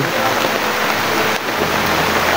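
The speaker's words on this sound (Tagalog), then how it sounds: "Napaglakas na ng ulan." Heavy rain pours steadily, a dense, constant wash of drops drumming on surfaces close by, with no break in its intensity.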